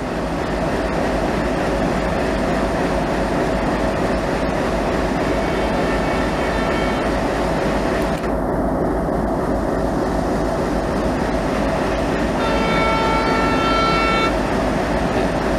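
Alco diesel locomotive on the Chennai–Tiruchy line runs close with a loud, steady engine roar and rolling wheel noise throughout, with a brief horn-like tone near the end.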